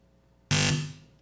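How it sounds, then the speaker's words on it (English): A single loud electronic buzzer blast in a high school quiz competition, harsh and abrupt, lasting about a quarter second before ringing out. "that buzzer means the end to the joust"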